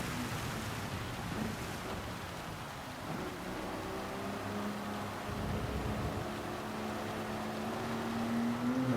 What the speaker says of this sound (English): this rain is stupidly bad